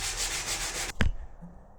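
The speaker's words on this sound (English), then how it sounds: "I'm going to go through and hand sand some of this and make sure that every surface is scuffed" Hand sanding scuffs primer on a forged carbon fibre car hood: close, steady rhythmic rubbing strokes for about a second, ending in a sharp knock and a quiet tail.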